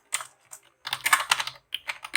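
Bursts of rapid key clicks on a computer keyboard while Python code is typed, with short pauses between flurries, close and clear with no talking.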